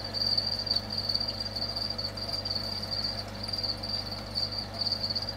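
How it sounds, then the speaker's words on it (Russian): Crickets chirp loudly in a constant high-pitched trill during their breeding period, a dense pulsing chorus that continues without pause over a faint low hum. "Просто дико орут сверчки."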